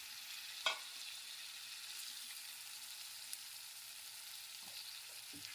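Egg pepper fry being stirred slowly in a pan, with a soft steady sizzle throughout and a sharp utensil knock near the start, then quieter scraping taps.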